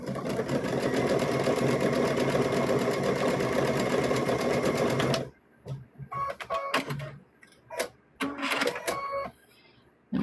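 Stuffed bear pieces are stitched down the edge on a sewing machine that runs loud and steady for about five seconds, then stops, followed by scattered handling clicks and rustles.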